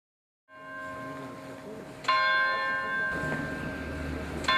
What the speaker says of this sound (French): La cloche, c'est une cloche républicaine.